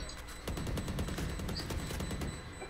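Rapid bursts of gunfire in the video game Valorant, dense repeated shots close up and loud, running continuously with no talking.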